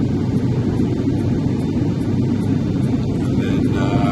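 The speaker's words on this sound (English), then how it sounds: "Now we're on a little prop plane" Steady engine drone and rumble heard from inside the cabin of a small Aeromar propeller plane in flight, loud and constant, with faint rhythmic ticks over the hum.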